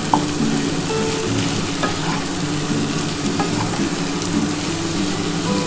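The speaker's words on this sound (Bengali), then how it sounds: "দেখো কত সুন্দর করে কিন্তু আমি কষিয়ে নিচ্ছি বন্ধুরা" Potato and pointed gourd curry sautés in a pan, a steady close sizzle with occasional soft stirring scrapes and knocks, no talking.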